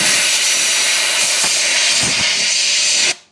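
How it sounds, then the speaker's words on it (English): Compressed air hose blasting water off a brake bleeder screw on a 2005 Honda Accord, a loud, steady broadband hiss lasting about three seconds before cutting off abruptly. "rinsing it off with my air hose, blowing it down, drying it off"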